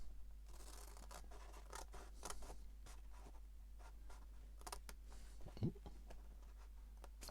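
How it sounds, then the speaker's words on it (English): Scissors snip paper while cutting angled corners off a folded sheet to make an envelope, a run of short close crisp cuts and rustles, fairly quiet with a low steady hum beneath. "Again, I'm going to cut these bits off."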